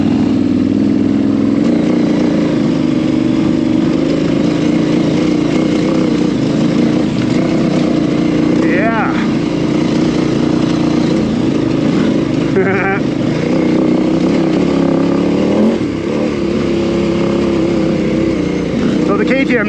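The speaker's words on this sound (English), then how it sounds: "So the KTM 990s, this bike here" A KTM 990 motorcycle out on the road in street throttle mode, its engine holding a steady, loud mid-pitched drone throughout, with brief shifts in tone as the rider works the throttle.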